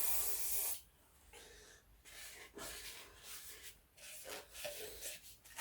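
Tissue soaked in a little silicone lubricant rubbed over a rubber part on a 1970 Honda CB750K0 motorcycle's carburettor, giving soft close rubbing and wiping swishes in several short strokes, with no voices.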